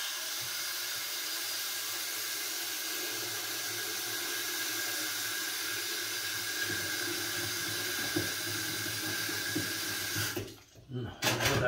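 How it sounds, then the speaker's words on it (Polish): Water is poured into a cooking pot in a kitchen as a steady, close hiss that runs for most of the clip, then breaks off near the end into a few clunks and splashes. "Nalewam tutaj wodę."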